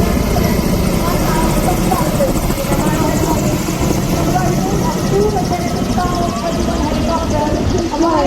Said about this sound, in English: कामो 31 हेलीकॉप्टर.